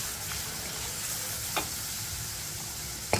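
Raw garlic paste fries in a pan for a raw mango pickle, giving a soft, continuous sizzling hiss with a few faint pops and no talking.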